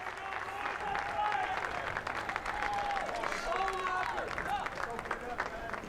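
A crowd applauds and cheers a player coming off second base at a high school boys baseball state championship game, with distant steady clapping, murmuring and voices under it.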